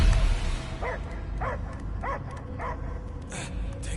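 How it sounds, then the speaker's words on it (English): Dog barking inside the Guardians of the Galaxy video game, a series of about five short, evenly spaced barks over a steady low background hum and score. "I hear only barking."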